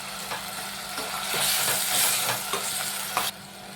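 Tomato with a spoonful of ginger garlic paste sizzles steadily in a hot pan while being stirred, the spoon scraping and clinking close up in a few rhythmic strokes.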